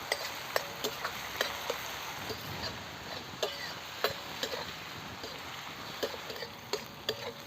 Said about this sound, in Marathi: आता चांगलं आपण एकजीव होईपर्यंत चांगलं परतून घेऊया.